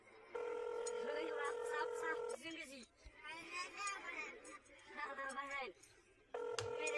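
Telephone dialing and ringing from a video game: steady multi-tone ring bursts open and close the stretch, separated by a few seconds of speech, with faint background chatter underneath.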